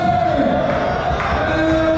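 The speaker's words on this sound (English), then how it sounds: "El Rey and the crowd here in Prescott, Arkansas, they are getting fully behind El Rey here" Wrestling crowd at a live show in Prescott, Arkansas cheering and shouting steadily behind a wrestler caught in a crossface hold, a loud, continuous roar with whoops rising over it.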